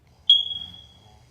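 A smoke detector gives a single short, high chirp, its low-battery signal, faint and a little distant over a quiet background hum.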